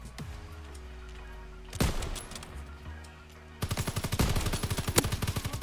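Gunfire in a Call of Duty game comes as two isolated heavy shots followed by a rapid, evenly paced automatic burst of loud shots near the end, over low droning game sound.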